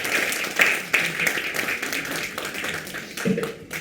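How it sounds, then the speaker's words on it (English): An audience at a mental health event in Malaysia applauds a clinical psychologist. The clapping is steady and moderately loud and fades toward the end, with some background voices. "Please give him a big round of applause"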